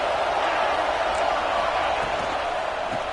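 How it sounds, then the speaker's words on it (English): A stadium crowd in a college football video game roars steadily, a dense, continuous wall of cheering that stays loud throughout without pauses. "Listen to this crowd just shaking the girders of this place"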